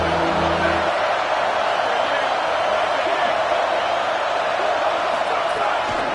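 A packed LSU home crowd roars at a football game against South Carolina, a dense, steady wall of loud cheering that holds throughout without letting up.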